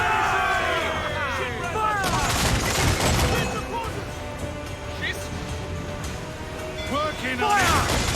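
Pirate ship cannons in Assassin's Creed IV Black Flag firing in booming volleys during a naval battle, with crew shouting orders over crashing waves and rolling broadside blasts.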